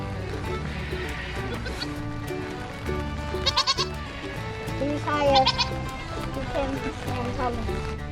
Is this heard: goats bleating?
yes